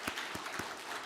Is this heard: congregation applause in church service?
yes